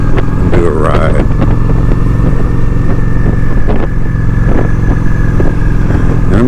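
A Honda Shadow 750 motorcycle cruises on a Sunday morning ride in Texas, its engine a steady, close drone mixed with wind rush across the whole stretch, while someone talks over it.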